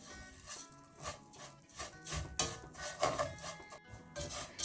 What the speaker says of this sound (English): Just toast them on medium-low heat.